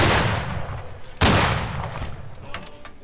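Musket volleys in the Civil War line-battle game Battle Cry of Freedom, two loud, close booming blasts with rolling echoes and scattered distant shots trailing after.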